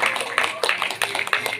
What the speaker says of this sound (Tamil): கைத்தட்டி நாம் திருவிழா நல்வாழ்த்துக்களை பகிர்ந்து கொள்வோம்